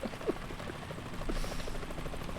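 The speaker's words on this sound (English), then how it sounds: "The chopper." A helicopter in the Metal Gear video game thrums in a steady, moderately loud rotor hum with faint rhythmic chopping, heard alone without speech.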